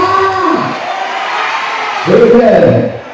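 A church congregation at an evening worship service cheers and acclaims loudly, a dense wall of crowd voices with shouting and whooping that swells again near the end.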